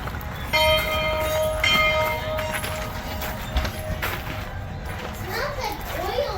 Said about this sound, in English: the person's pulling the bell